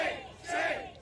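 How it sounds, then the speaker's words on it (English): Crowd at a protest chanting "shame" in unison, heard as a brief, somewhat distant burst of many voices rising and falling twice in quick rhythm. "love to hear a good shame chant"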